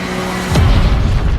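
An animated nuclear power plant called Aksomako explodes with a sudden deep boom about halfway through, swelling into a loud sustained low rumble that cuts off abruptly at the end.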